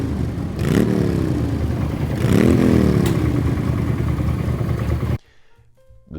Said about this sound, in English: Loud pipes save lives. We have to be as loud as possible.